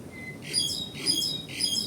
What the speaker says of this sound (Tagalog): ang magandang pakinggan, mga tunog ng ibon